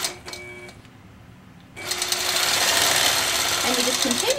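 A sewing machine stitches a floating crosshatch quilt pattern, starting with a few short bursts, pausing, then running in a loud steady rapid hum with a voice speaking alongside.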